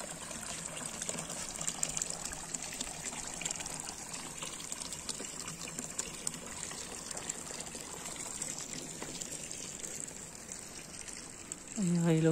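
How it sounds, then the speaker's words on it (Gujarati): A village fountain in a Swiss village street runs nonstop, a steady close rush and splash of flowing water that holds even throughout, swelling briefly louder at the very end. "અહીંયા આવી રીતે 24 કલાક પાણી આવે છે."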